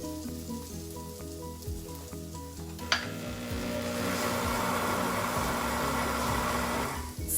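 Dried herbs and turmeric sizzle in a hot pan, opening with a soft crackle before a sharp drop-in sets off a loud, steady hiss of frying that holds until the end, with no talking.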